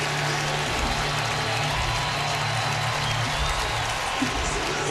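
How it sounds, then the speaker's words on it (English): A crowd in the NCAA 2014 college football video game roars in a dense, continuous wash of cheering and noise at an even, loud level from start to finish, with no break in it. "Now let the crowd really roar."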